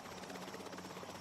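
A royal Wessex helicopter of the Queen's Flight flies with a steady, continuous rotor drone and engine buzz, moderately near and unbroken for the whole short stretch, with no voices.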